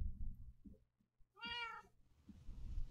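A single loud, drawn-out meow from a cat in a room, close by, after a stretch of quiet low rumble and small knocks.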